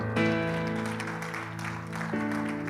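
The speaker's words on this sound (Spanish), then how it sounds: "Denle un aplauso a Cristo porque Él es bueno." Applause rises from a church congregation and holds steady, mixed with sustained organ or keyboard chords playing throughout.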